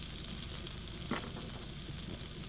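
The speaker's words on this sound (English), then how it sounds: "we've got the butter on, getting up to nice temperature" Butter sizzling in a hot frying pan as it heats up before seasoned potatoes go in; a steady, close, dense frying hiss with a couple of faint clicks and no talking.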